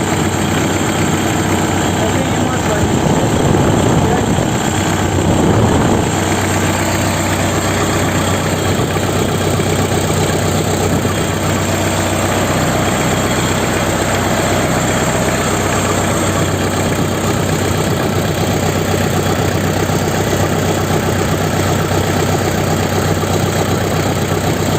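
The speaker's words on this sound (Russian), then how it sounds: "Так, ну вот двигатель нагрелся." A warmed-up 3C engine idling steadily, a constant close mechanical drone with vibration and no change in pitch throughout.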